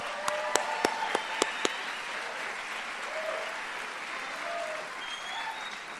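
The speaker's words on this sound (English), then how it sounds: "I would like to invoke a round of applause for these graduating seniors" Steady applause from a graduation crowd honoring graduating seniors, a few sharp close claps at the start, then an even wash of clapping at moderate level with faint voices.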